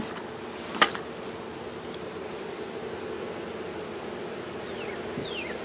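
A soft, steady hum of many honeybees buzzing around a hive, with a brief knock near the start and occasional individual bees passing close.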